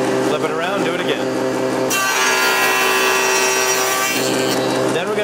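A hand saw cuts through wooden door stiles and rails, a steady rasping stroke that runs throughout at close range, with a sharp shift in texture partway through as the cut changes.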